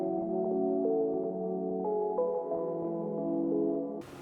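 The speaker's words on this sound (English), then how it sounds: "I also added another part of a different lo-fi sample" A lo-fi music sample layered as a soft background pad: dense, warm sustained chords with slowly shifting notes, steady and continuous, ending in a sudden bright burst at the close.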